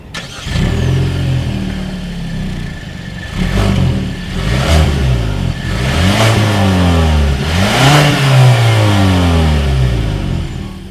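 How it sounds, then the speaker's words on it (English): A 2020 Kia Sportage engine starts and is revved repeatedly from idle, each blip rising and falling in pitch through the exhaust, close and loud, with a steady throaty hum between revs. "As always, here is that exhaust clip."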